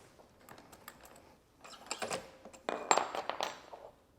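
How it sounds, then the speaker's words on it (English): Bicycle front axle being removed with a 6mm Allen key, heard as light metallic clicks, taps and rattles up close, faint at first and then busier near the end. "grab your 6mm Allen key and remove the axle"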